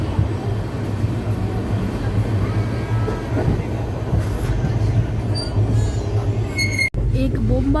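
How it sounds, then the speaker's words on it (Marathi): A Bombardier EMU suburban train overtakes the Pragati Express near Kurla in Mumbai after rain, heard from inside the express as a steady low rumble of wheels and rails with brief metallic clanks and squeals near the end. "एक बोंबार्डियर EMU प्रगती एक्सप्रेसला ओव्हरटेक करते."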